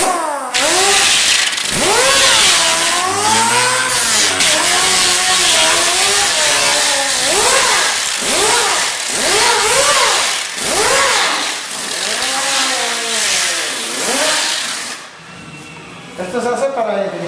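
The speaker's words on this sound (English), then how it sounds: "after creating the beveled opening with his grinder is he started to grind it flat" A power grinder flattens a beveled crack during a repair, giving a loud, continuous whirring whine that rises and falls for about fifteen seconds while someone talks over it.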